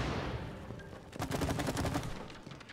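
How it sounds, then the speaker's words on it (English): Rapid bursts of gunfire at a shooting range in the video game It Takes Two ring out in quick clustered shots, fairly close and moderately loud over a dull background. "I think it's a shooting range. Let's try it out."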